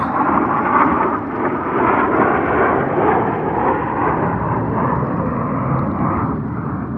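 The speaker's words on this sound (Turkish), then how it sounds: "Amerika uçaklarının gösterisi." American F-35 and F-16 fighter jets fly at an air show near Las Vegas, producing a loud, continuous engine roar that holds steady for several seconds with no other sounds.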